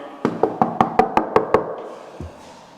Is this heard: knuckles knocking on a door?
yes